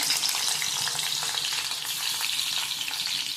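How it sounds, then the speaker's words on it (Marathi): Onion, curry leaves and roasted garlic fry in oil in a hot kadhai with a dense, continuous crackling sizzle that stays close and even throughout. "कांदा, चांगला तेलात भाजून घेऊया आधी"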